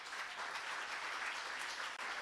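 A church congregation breaks into steady applause during a Sunday sermon, a dense, even wash of clapping that holds at one level for two seconds without a break.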